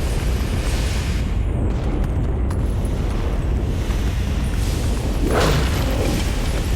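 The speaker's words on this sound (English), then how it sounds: "the mountain is exploding" Steady, loud rumbling roar of a mountain erupting and exploding in Zelda Twilight Princess, a dense booming wash that holds throughout, with a brief rising burst near the end.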